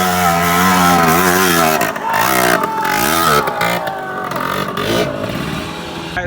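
A Suzuki LT80 ATV engine screams at full throttle during riding in an abandoned building, a loud, close, continuous high-pitched rev with the pitch rising and falling as it surges.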